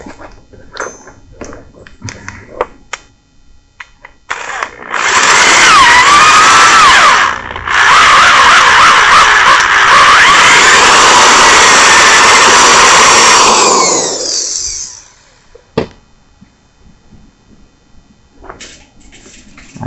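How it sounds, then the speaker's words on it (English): A loud power drill whines continuously for about ten seconds, briefly pausing once, grinding through a metal casting close by, then stops. "pretty sure this is a casting. That was way too easy to drill."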